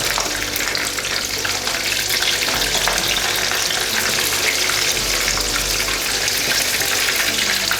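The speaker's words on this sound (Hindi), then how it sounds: "ज़बरदस्त तरीके से फ्राई हो रही है" Fish frying in a pan of hot oil, a loud, continuous crackling sizzle with popping spatters that holds steady throughout.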